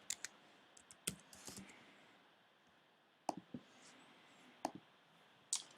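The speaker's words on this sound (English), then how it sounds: "I'll go ahead and type in the admin user." Soft, irregular bursts of keystrokes on a computer keyboard while an admin username is entered, quiet clusters of clicks separated by pauses, no talking.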